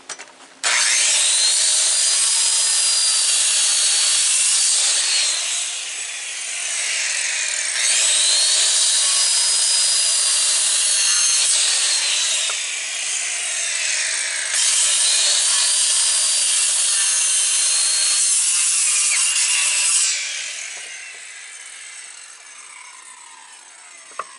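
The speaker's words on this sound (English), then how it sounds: "I'm going to finish cutting these" A Wood-Mizer sawmill blade cuts through 2-inch-thick wood in three long, loud passes, each a harsh grinding rasp with a high whine that dips and rises before the cut trails off.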